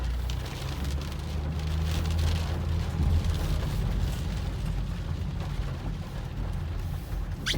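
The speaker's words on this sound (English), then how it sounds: "it is raining" Steady rain drums on a 2003 Ford Windstar minivan during a drive, a constant dense patter over a low road rumble inside the cabin, with no speech.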